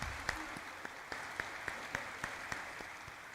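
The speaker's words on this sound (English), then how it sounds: "Let's have a huge round of applause" A crowd claps at a stock exchange listing ceremony for Kalpataru Limited, a fairly steady spread of hand claps with regular sharper claps standing out at roughly even intervals across the stretch.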